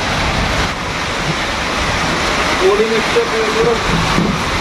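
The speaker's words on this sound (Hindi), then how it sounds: "पूरा वर्षा है जोर की।" Heavy rain pours in a dense, loud, unbroken wash of noise, with voices talking over it partway through.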